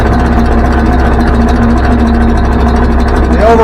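A skid loader with a brush hog attachment runs after power to the mower is taken off, the engine idling in a steady loud drone with a faint rising whine near the end.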